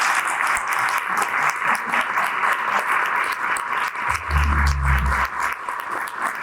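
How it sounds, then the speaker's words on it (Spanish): An audience applauds a lecturer at the end of a library talk on codices, with a dense, sustained clapping that holds steady throughout. "así como un libro y por supuesto nuestro aplauso"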